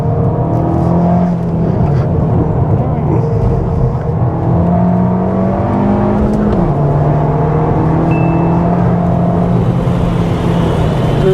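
An Abarth 695 C Competizione, a 2023 model with 180 hp and a limited-slip differential, accelerates with a steady, buzzing engine note that climbs and shifts through rising pitch sweeps, loud and close throughout.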